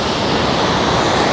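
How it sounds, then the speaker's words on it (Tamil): Water pours steadily out from inside a rock crevice in the hills of Munnar, a loud, continuous rushing wash close by with no voices over it. "இங்கே பாருங்க இதுக்குள்ளேருந்து ஒரு தண்ணி போகுது"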